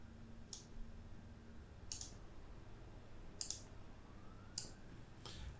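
Mouse clicks while tracing a drawing layer in Adobe Animate come as a few faint, sharp, isolated clicks spaced about a second apart over a quiet room hum.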